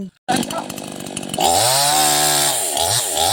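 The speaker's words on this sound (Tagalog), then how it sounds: "At dito nga ho ay gumamit na kami ng chainsaw." A chainsaw starts up loudly nearby and roars steadily, its engine pitch dipping and rising as it bites into bamboo.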